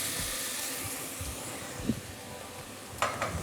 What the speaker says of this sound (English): This is the sound we want to hear as we cook the onions. They're sweating, they're not boiling.